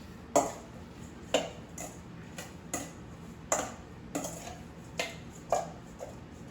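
A salad dressed with smoked paprika, black pepper and salt is lightly tossed in a bowl, giving a regular series of about a dozen light utensil clinks, close and moderately faint over quiet room tone.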